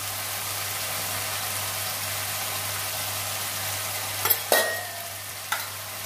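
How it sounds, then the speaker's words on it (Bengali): Ground spices, cumin and ginger paste, coriander powder and turmeric sizzle with a splash of water in a pan for a cauliflower-potato curry, a steady close frying hiss broken by a few sharp utensil clatters near the end. "তো হলুদ, সামান্য জল দিয়ে মশলাটা কষে নেব।"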